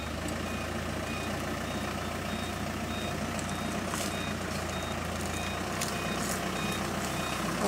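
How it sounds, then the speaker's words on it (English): A steady series of high electronic reversing beeps from a vehicle's backing monitor repeats evenly over a continuous low engine rumble, somewhat distant, with no talking. "That is our backing monitor that you can hear."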